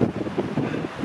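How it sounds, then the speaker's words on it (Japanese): Strong wind gusts roar across a whitecapped sea during an egging squid-fishing competition, a steady rushing blast buffeting the microphone with low surging wave noise, no talking. "風でね、白波立っちゃって。"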